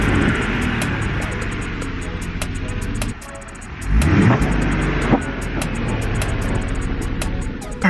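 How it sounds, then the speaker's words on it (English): A Jeep Rubicon on BFGoodrich KO2 tires spins its wheels in snow, the close engine roaring and revving steadily, dipping briefly before surging again, with sharp ticking and tapping noises scattered over the top. "I see a Jeep that needs to do some burnouts"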